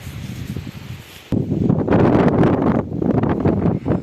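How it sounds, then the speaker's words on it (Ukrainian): Wind blows in gusts against the microphone, a low rumbling roar that surges louder partway through and rustles on steadily. "Сьогодні віє е, цей вітер трохи"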